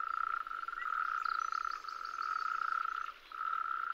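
A tree frog calls in a continuous loud trill, close and clear, with one brief pause near the end before it resumes. No voices or other sounds are present.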